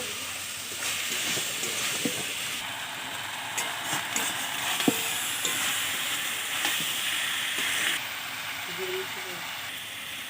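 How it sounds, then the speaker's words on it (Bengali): A taro flower mixture with turmeric and salt is stirred in a pan, with soft scraping and occasional clinks over a steady, gentle frying hiss. "নাড়িয়ে নেবো"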